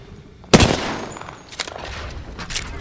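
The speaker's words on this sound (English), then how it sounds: "Contact with hostile. Fire! Getting shot at." Gunfire in the Apex Legends arena shooter: a sharp close burst of shots, then a few more scattered reports through a lingering echo.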